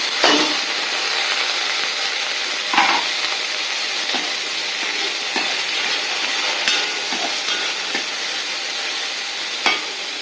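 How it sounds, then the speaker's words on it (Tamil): Curry leaves fry and crackle in hot oil, a steady bright sizzle with sharp pops scattered throughout, close and continuous for about ten seconds with no talk over it. "கருவேப்பிலை நல்லா மறுபடணும்."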